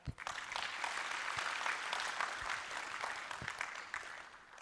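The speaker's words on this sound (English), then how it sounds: "I think he deserves a better clap." Applause from an audience at a university placement stakeholder forum, a steady wash of many hands clapping sustained throughout at moderate distance, with a few sharper claps standing out.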